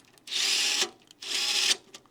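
A Panasonic EXENA electric screwdriver backing out a screw in two short whirring bursts separated by a brief pause, close and fairly loud, with no voices.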